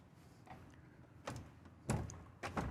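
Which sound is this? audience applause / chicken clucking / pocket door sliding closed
pocket door sliding closed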